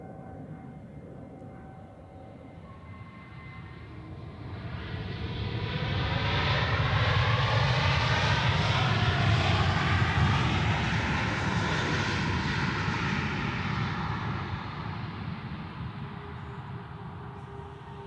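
An ITA Airways Airbus A321neo lands at Zurich Airport, its engine roar rising from a distant hum, peaking loudly as it passes, then fading away, heard alone without voices.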